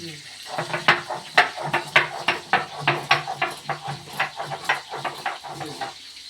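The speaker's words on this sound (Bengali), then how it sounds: "এবার এই বলতেই আমি গোলমরিচটা বেটে নেব।" Black pepper ground by hand with a stone makes rapid, rhythmic scraping and grinding strokes, close and fairly loud, repeating evenly for several seconds.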